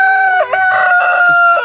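A rooster among free-ranging laying hens lets out a single loud, close, drawn-out crow with a wavering pitch. No talk is heard.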